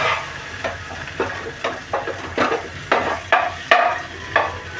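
Tandoori chicken masala fries in a pan while a utensil turns it over and over, a rhythmic series of about a dozen scraping strokes riding on a continuous sizzle.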